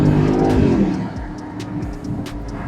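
From inside a 2026 Mercedes-Benz SL63 AMG, the engine note climbs in a strong rev, then eases back to a lower, steady drone while driving.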